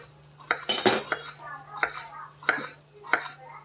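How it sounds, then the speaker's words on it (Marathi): A knife chops ridge gourd into round slices on a board, five or six crisp separate cuts at an uneven pace against a quiet low hum, close and clear with no talk. "अशा पद्धतीने दोन्ही साईडचं कट करून आता याला बारीक बारीक चिरून घ्यायचं आहे आपल्याला"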